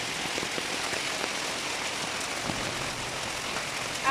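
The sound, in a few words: hail falling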